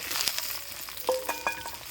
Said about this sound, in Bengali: কালো জিরে, কাঁচা লঙ্কা, পেঁয়াজ দিয়ে দিলাম তেলে। এবার বেগুনটা দিয়ে দেবো।